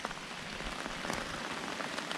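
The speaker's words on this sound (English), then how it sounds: "it started pissing down with rain again" Heavy rain pours steadily onto the Bibbulmun hiking track near camp, a dense, continuous hiss and patter close by with no voices.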